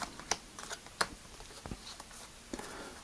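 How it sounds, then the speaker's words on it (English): Playing cards dealt left and right in an LR shuffle, a few sharp papery snaps and soft taps spaced irregularly, close and quiet, with no talking. "for each half, you perform the LR shuffle again"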